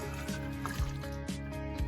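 Water pours into a bottle in short, close, gurgling and dripping bursts, fairly quiet over a low steady hum.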